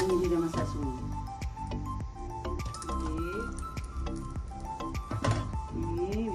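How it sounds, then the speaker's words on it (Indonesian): Chocolate popcorn kernels pop in a pot, crisp scattered bursts arriving irregularly over a sizzling bed, close and fairly loud, with a voice talking over them. "Okey, dah meletup-letup kan?"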